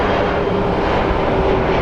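Airplane at Phoenix Sky Harbor International Airport, a steady broadband engine roar with a faint tonal hum, continuous and fairly loud throughout the short stretch, no talk.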